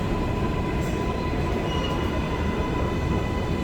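New York subway 7 train at the Times Square station, a loud, continuous rumbling roar of the train with a steady tone throughout, heard up close without pauses.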